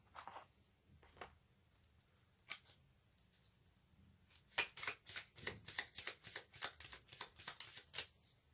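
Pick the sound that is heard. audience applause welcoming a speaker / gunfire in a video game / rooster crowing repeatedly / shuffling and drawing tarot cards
shuffling and drawing tarot cards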